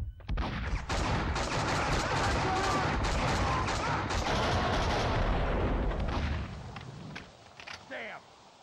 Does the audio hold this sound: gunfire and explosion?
yes